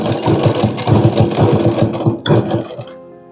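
Sewing machine stitching blouse fabric, a princess-cut blouse with piping, running in a fast steady rhythm of needle strokes for most of the stretch, then stopping near the end, close and loud.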